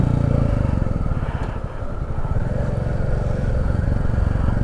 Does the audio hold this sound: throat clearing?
no